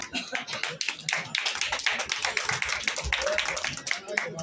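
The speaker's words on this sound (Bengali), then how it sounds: "করতালি দিন" Steady applause from a crowd at an outdoor winter-clothes distribution event on a football ground, continuous dense clapping with speech mixed in.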